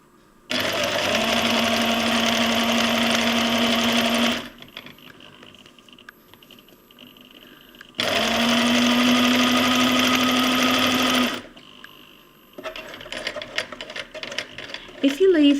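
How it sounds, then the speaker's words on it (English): Sewing machine stitching a cloth pad, two loud steady bursts of fast whirring stitching, each a few seconds long, separated by quiet pauses with faint handling noises. "And we'll just sew over our zigzag or on the core line."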